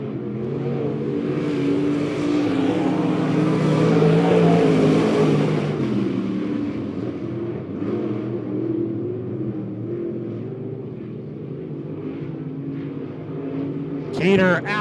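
Race cars lap Monett Motor Speedway during a heat race, a steady engine roar that swells and fades as the field passes, heard under continuous announcer commentary.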